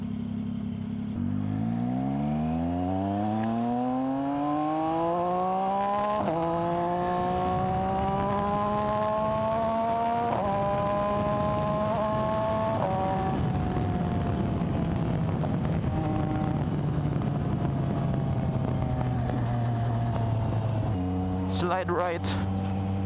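A Yamaha MT-09 triple-cylinder motorcycle with Öhlins suspension is ridden hard, its engine pitch climbing through several gear changes before leveling off into a steady drone, with a short sharp burst near the end.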